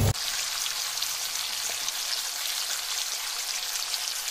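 Chopped onion and ground garlic frying in a pan while Peruvian ají de gallina is cooked, giving a steady close-up sizzle and crackle throughout with no talking.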